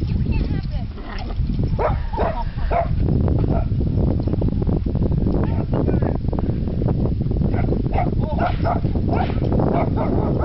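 Several dogs bark and yip excitedly, mixed with whimpers, while people talk over the commotion at close range.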